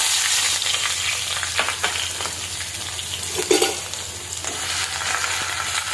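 Ginger and garlic fry in hot oil with curry leaves and dried chillies, giving a steady, crackling sizzle close by with a few brief spits and a light scrape of stirring, no voices.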